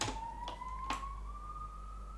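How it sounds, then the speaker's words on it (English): An emergency vehicle siren wails far off, a faint slowly rising tone heard indoors beneath a steady low hum and a couple of soft clicks. "I hear some sirens"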